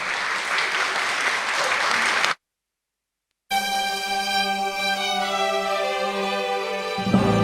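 Audience applause at a cultural centre concert, dense steady clapping that breaks off into a brief silence, then a second stretch of applause with sustained musical tones running beneath it.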